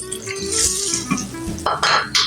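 Chicken chilli being stirred in a pan over a low flame after a cornflour slurry goes in, giving close scraping, clinking and wet sizzling sounds with a few sharper knocks of the spoon against the pan.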